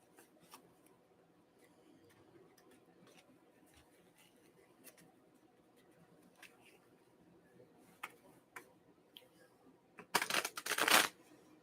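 Cards shuffle in one short, close flurry of riffling near the end after a long quiet stretch with faint handling noise.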